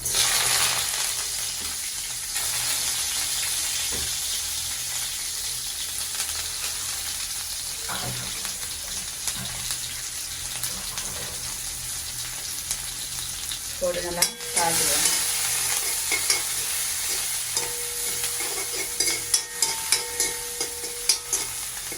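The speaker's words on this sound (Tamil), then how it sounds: "இப்போ எண்ணெய் சூடாகிட்டு இப்போ வந்து நான் இதில் வெந்தயம் சீரகம் எல்லாம் போட்டுக்கணும் வெங்காயம் பச்சை மிளகா கருவேப்பிலை போட்டேன்" Onion, green chilli, curry leaves, fenugreek and cumin fry in hot oil with a loud, continuous close-up sizzle, and clattering stirring and scraping sounds join in the second half.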